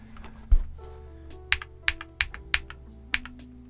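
Typing on an MMStudio Class80R2 mechanical keyboard: a single heavier thud followed by several crisp, spaced keystroke clacks, close and clear over a faint background hum, with no talking.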